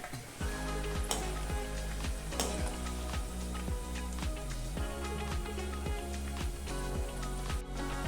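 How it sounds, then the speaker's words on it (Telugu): Bitter gourd pieces fry in oil, a continuous moderate sizzle beneath steady background music with tonal notes, no talk. "ఇలాగే అన్ని కాకరకాయ ముక్కల్ని వేపుకోవాలి"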